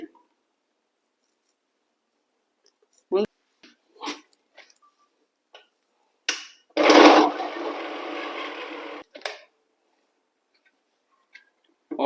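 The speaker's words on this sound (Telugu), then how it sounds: "ఇప్పుడు మిక్సీ అనేది పేస్ట్ మెత్తగా వచ్చింది" A kitchen mixer grinder running in one loud, close burst of about two seconds, grinding chicken, potatoes and green chillies into paste, with scattered clicks and handling knocks before and after.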